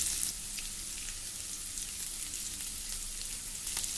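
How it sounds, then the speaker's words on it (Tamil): Onions sautéing in a pan for Tamil-style radish sambar, a steady continuous sizzle of frying close by, even in loudness throughout with no talking. "நல்லா நமக்கு வெங்காயம் வதங்கட்டும்."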